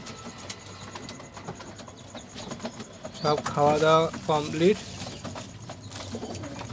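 Domestic pigeons in a loft with parents and young chicks, fed wheat at night, coo softly in the background while someone talks over them in the middle of the stretch.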